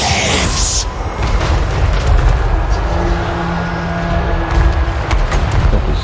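Booming explosions from Tomb Kings Casket of Souls attacks striking artillery in a Warhammer battle game, a steady dense roar of blasts and rumble at close range with no clear talk.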